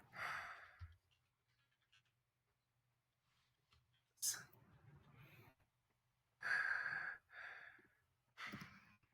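Heavy breathing during a Blood on the Clocktower game session, coming in several separate bursts of loud, breathy exhales and sighs with quiet gaps between them.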